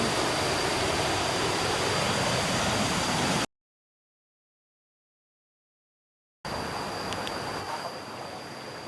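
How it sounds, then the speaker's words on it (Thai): Tat Ton waterfall in Chaiyaphum, a loud, close, steady broadband rush of falling water that cuts out to silence for a few seconds and then resumes slightly softer. "ถึงแล้วน้ำตกตากโตน"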